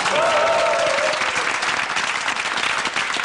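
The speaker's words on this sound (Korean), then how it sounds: "격려의 박수 좀 보내주십시오" A studio audience at a Korean TV game show gives steady, encouraging applause for a losing team, dense continuous clapping that stays loud throughout with crowd murmur beneath.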